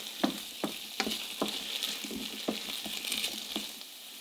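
Thin-sliced potatoes cooking in a pan after about ten minutes of stewing, a soft steady sizzle broken by repeated sharp scrapes and clicks of stirring, close and moderately loud with no talking.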